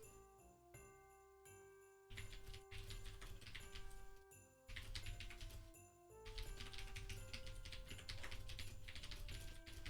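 Quiet keyboard typing at a computer during a game stream, soft rapid key clicks in bursts under faint steady background game music, no talking.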